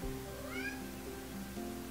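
An indoor cat cries at a closed bedroom door, giving one drawn-out, rising and falling meow over a quiet room hum, close and clear, with no talking.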